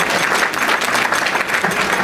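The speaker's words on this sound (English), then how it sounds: "give yourselves a round of applause for that" Steady audience applause at a Christmas event, dense and even clapping from a large crowd that holds at a constant loud level throughout, with no voices over it.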